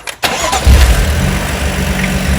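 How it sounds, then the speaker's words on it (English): A 2015 BMW M4 with the S55 engine cranks and fires up abruptly, then settles into a loud, rough idle close by. "So, all right, go ahead and start the car."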